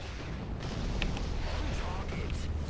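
In War Thunder, a T34 Calliope fires 114mm rockets, heard as a dense rumbling barrage of booms and whooshes in a continuous loud wash, with a player talking over it.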